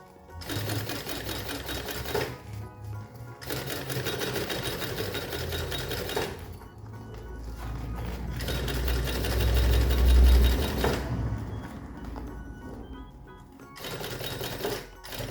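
A sewing machine stitches the pocket of a fabric lunch bag in several bursts of rapid, steady whirring, broken by brief pauses between runs.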